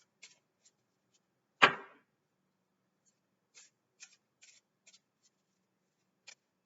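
Oracle cards being shuffled and handled: one loud papery riffle burst, then a handful of faint, brief card taps and flicks spread across a quiet room, with no talking.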